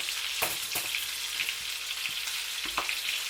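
Sirloin steaks fry in a pan with a constant bright hiss of sizzling fat, punctuated by a few sharp clacks and pops of the meat and utensil, close up and without voices.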